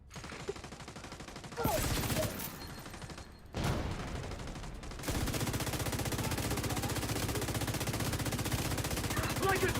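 Rapid automatic gunfire in a shooter video game, loud sustained bursts of machine-gun fire broken by brief pauses, then a long continuous stretch of shooting with voices faintly mixed in.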